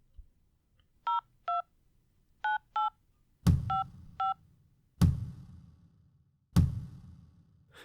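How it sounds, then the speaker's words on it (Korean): A phone keypad plays six short DTMF dialing tones in pairs, clean and close, with three heavier thumps or clicks landing in between in a quiet room. "부동산에 다시 전화를 하자"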